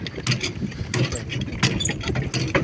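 A vehicle travelling along a rural farm road past fields, with a rattling, bumpy mechanical rumble and irregular clunks and knocks from the ride, heard close and continuous without speech.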